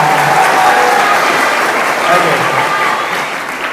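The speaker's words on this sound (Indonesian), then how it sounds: "tepuk tangan untuk kita semua" An audience at a public speaking seminar in an Islamic boarding school breaks into loud, dense applause, many hands clapping up close in a steady wash that eases off toward the end.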